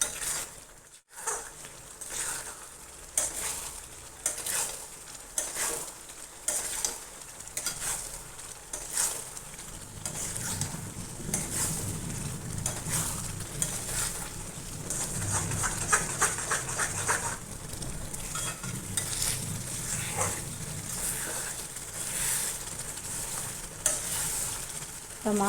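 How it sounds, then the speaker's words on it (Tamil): Mango halwa with ghee being stirred in a pan, a continuous sizzle with rhythmic scraping strokes of the spoon, close and moderately loud, with no talking. "அப்படியே நம்ம கிளறிட்டு எடுத்துடலாம்"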